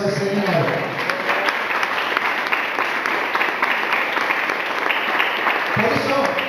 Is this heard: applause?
yes